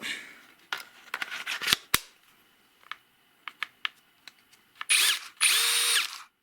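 A Tekhnann TCD-65/i20 BS cordless brushless drill whirs up in short bursts, then two longer high-speed spins at up to 2000 rpm, with clicks and handling knocks between them.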